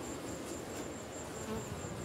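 Honey bees buzz steadily at an opened backyard hive, a dense continuous drone close to the listener with a faint high whine, with no talking.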